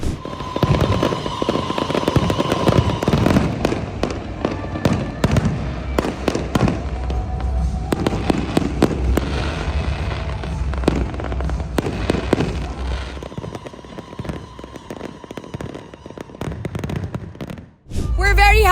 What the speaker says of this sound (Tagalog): isang makulay at 15 minutes fireworks display dito sa Skyline